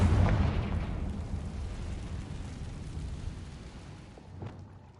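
A Confringo blasting spell in Hogwarts Legacy goes off as a loud explosion at the very start and rumbles as it fades, with a smaller burst near the end.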